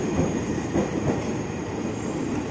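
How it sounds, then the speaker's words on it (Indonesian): A KRL commuter train rolls into the adjacent platform track at a station, a steady, loud rumble of wheels on rails with faint clatter throughout and no talking. "jalur sebelahnya masuk komuter yang tujuan Jakarta Kota"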